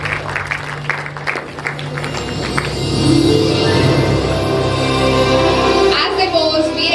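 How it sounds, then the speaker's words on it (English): Audience applause at a school investiture ceremony as a new house captain poses with the Mother Teresa house flag, a steady wash of clapping that swells midway and stays dense, with some voices underneath. "As they pose, we expect a huge round of applause to welcome our new house captain"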